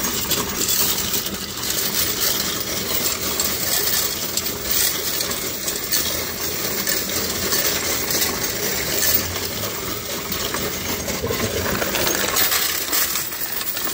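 Quarters drop into a container again and again, a dense, continuous metallic jingle and clatter that goes on throughout, with no talking.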